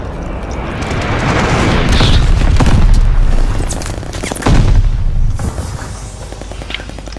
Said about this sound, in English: Once again, I just died to a bomb.